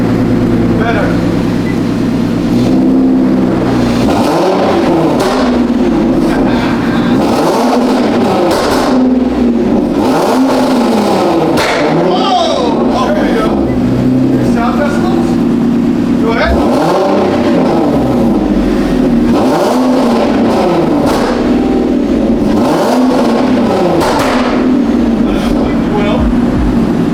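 Infiniti Q50 with a Gemini cat-back exhaust revving repeatedly, deep rising and falling engine roars that stay loud throughout, with people talking over it.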